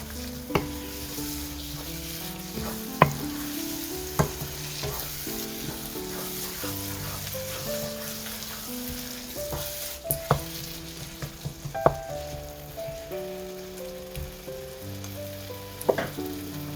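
An egg toast mixture sizzles steadily as it fries on a high flame, with scattered clicks and light scrapes from stirring, and no talking.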